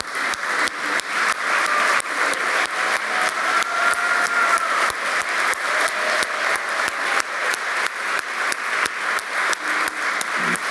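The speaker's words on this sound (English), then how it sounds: "I would like you each to stand and get a round of applause too." An audience at a benefit gala applauds the board of directors as they stand, giving a steady, dense round of clapping that holds at an even, loud level for about ten seconds, with no voices over it.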